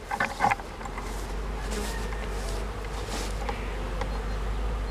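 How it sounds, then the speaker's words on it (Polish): Honeybees buzz around the small entrances of a hive, a steady, close, moderately loud hum with individual bees flying past now and then. "No pięknie pszczoły chodzą"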